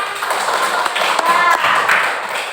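A school class claps hands together in a classroom, a burst of quick, uneven claps from many children close by, with some voices mixed in.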